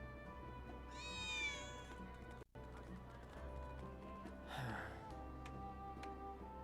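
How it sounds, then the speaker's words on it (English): A cat meows in Final Fantasy 7 Remake, one rising, wavering cry and a second shorter one later, loud and close over steady game ambience with hoof-like clopping and background hum. "We're gonna get this last cat."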